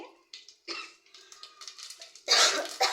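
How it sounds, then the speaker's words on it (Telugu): A person coughs several times in short, close bursts, ending with a harsher, louder cough; no speech. "ఆ ఘాట్ అనేది వస్తుంది కాబట్టి దగ్గు కూడా వచ్చేస్తుంది నాకు"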